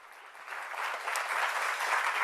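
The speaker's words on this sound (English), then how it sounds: "So we can give you a round of applause." Audience applause at a conference on waste collection, a soft wash of clapping that swells from moderate to fuller over a couple of seconds, heard from a little distance.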